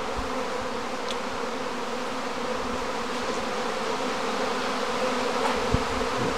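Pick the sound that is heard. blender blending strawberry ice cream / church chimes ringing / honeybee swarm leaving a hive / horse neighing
honeybee swarm leaving a hive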